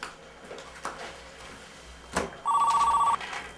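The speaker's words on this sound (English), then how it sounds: "Who calls the room phone?" A room telephone rings with a short electronic trill burst near the end, preceded by quiet room sounds and a brief clunk.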